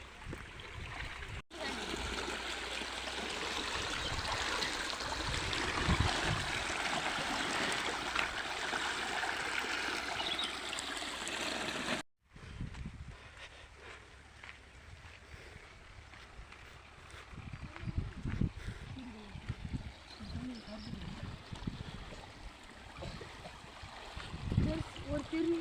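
Water rushes steadily through a small stone dam built across a stream, a continuous outdoor splashing and gurgling that drops quieter halfway through, with someone speaking over it.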